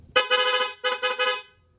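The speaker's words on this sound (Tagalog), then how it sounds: "May rapid horn mga sir pag diniinan. So, napakalakas mga sir." Rapid horn on a Yamaha Tracer 9 GT motorcycle wired through an interrupter relay, blaring loud and close at night in two bursts of quick repeated honks with a brief gap between them.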